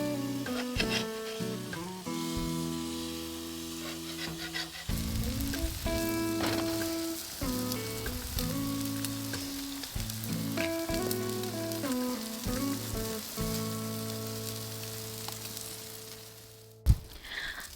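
Smash burgers sizzle on a grill, a soft continuous crackle running under loud background music throughout, with a sharp clatter near the end.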